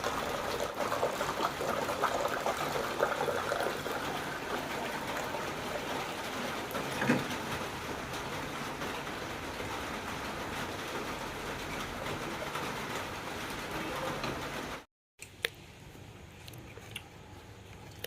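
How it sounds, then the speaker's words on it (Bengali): Heavy rain pours down in a steady, dense hiss that holds without a break, with faint bird cooing in the background, then cuts out abruptly near the end before a quieter patch with a few sharp knocks. "প্রচুর বৃষ্টি পড়ছে, প্রচুর।"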